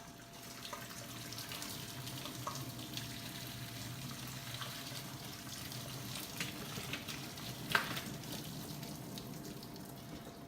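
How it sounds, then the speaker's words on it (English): Water boils in a pot of potatoes during home cooking, giving a faint, steady bubbling hiss throughout with one brief clink partway through. "this water is very boiling"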